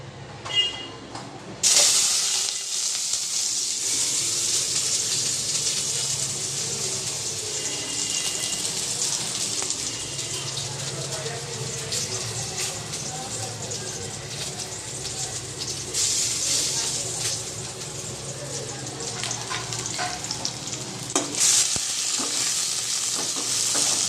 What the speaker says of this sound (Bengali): তেলটা গরম হয়ে যাক। তেলটা একদম ভালো মতো ধুয়ে উঠছে, বুঝতেই পারছো গরম হয়ে গেছে। এবার পেঁয়াজগুলো দিয়ে দিই।